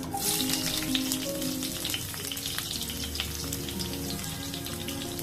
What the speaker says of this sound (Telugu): పచ్చిమిర్చి, ఇది కొంచెం ఫ్రై అవ్వాలి.